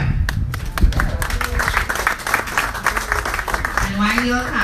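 Audience clapping steadily from many hands, a dense patter of applause with voices mingled underneath.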